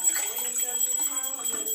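Water poured into a glass, a soft splashing trickle, close and quiet, with light voices murmuring in the background.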